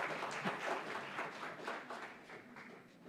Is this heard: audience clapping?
yes